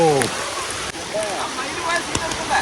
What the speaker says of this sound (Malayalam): കറക്റ്റ് ടൈമിൽ പെരുമഴ അല്ലേ നല്ല മഴ